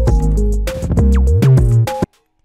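A hyperpop glitchcore beat of punchy drums, snares, hi-hats and percussion under pitched synth tones, loud and dense for about two seconds before cutting off abruptly into silence.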